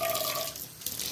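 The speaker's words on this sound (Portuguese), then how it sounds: "Colocar uma água nessa panela aqui" Water runs from a tap into a cooking pot, a bright trickling stream that thins out and returns briefly, close and fairly loud.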